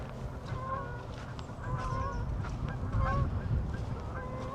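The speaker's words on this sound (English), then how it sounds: "And there's the geese." Geese honk repeatedly in an open countryside setting in Oxfordshire. Several overlapping calls sound at mid distance over a rough outdoor background rumble, and nobody speaks.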